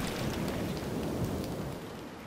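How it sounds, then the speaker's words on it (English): Steady rain pours with a low rumbling thunder underneath during a storm at sea in the PC strategy game Anno 1701, dense and continuous, no voices over it. "The next storm's already brewing."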